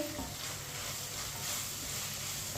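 Ground red chilli, turmeric and garam masala being stirred and fried in a pan, giving a soft, even sizzle with light scraping, close and steady throughout.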